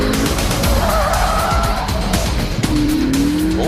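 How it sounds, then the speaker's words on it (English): A hot hatchback's throaty engine pulls hard through a turn with tires squealing and scrubbing, loud and continuous, its pitch climbing steadily toward the end. "Quite a nice throaty sound for the engine, isn't it?"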